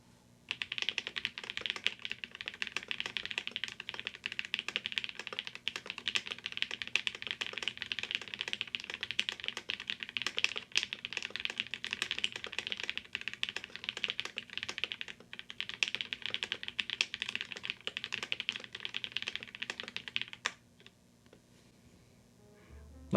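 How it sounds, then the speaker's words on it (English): Fast continuous typing on a Brutal V2 1800 keyboard with a half aluminum plate, plate foam, NicePBT keycaps and lubed Cherry Blossom switches, dense soft clacks close up before stopping near the end. "this is the Brutal V2 1800, built with a half aluminum plate and lubed cherry blossom switches"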